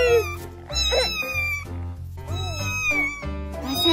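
A frightened kitten being rescued gives repeated high, drawn-out meows, loud and close, in several rising and falling calls with brief pauses between them.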